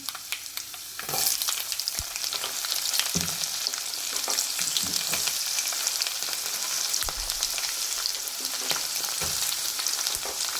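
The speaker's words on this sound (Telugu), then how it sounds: "ఇప్పుడైతే పచ్చిమిర్చి ఆనియన్స్ అయితే వేసేసుకుందాం" Green chilies and onions dropped into hot tempering oil for spinach dal burst into a loud, steady sizzle after a brief quieter start, with occasional clinks and crackles and no talking.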